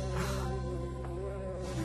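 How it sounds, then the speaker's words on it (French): A cartoon bee buzzes in a steady, unbroken drone, close and fairly loud, with no voices alongside. "Et que quelqu'un fasse sortir cette abeille."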